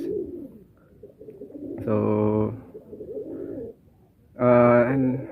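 Young pigeons cooing in a loft, two loud bursts of deep rolling coos close by, separated by quieter murmuring coos and rustling, with a brief spoken word near the start.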